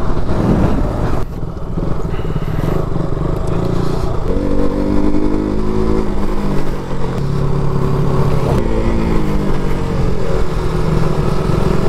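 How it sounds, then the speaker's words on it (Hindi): A quad bike engine runs in the snow at Gulmarg, holding a steady, close, continuous drone whose pitch rises and falls as the throttle revs, with no talk over it. "गुलमर्ग में आपको बहुत ही ज़्यादा ऐसी क्वाड बाइक्स मिलेंगी, यहाँ पे क्वाड बाइक्स बहुत ही चलती है स्नो में भी"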